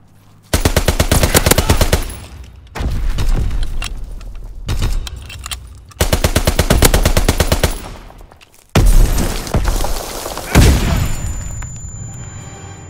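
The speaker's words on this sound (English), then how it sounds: "Fighter pilot inbound. Strafing the target." Fighter plane strafing fire in Call of Duty: WWII on the Shipment 1944 map, loud rapid bursts of machine-gun fire in several long volleys with brief gaps, ending in a heavy boom and ringing tail.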